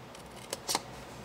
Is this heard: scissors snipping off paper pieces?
yes